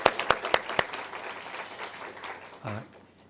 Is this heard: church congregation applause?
yes